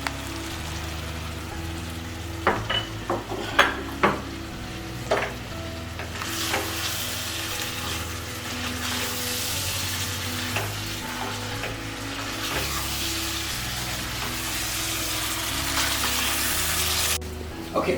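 Food cooking slowly in a pan with turmeric gives a steady, close sizzle and frying hiss, with occasional sharp stirring knocks and scrapes early on.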